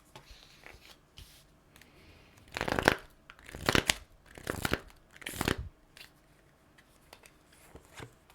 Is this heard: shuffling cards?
yes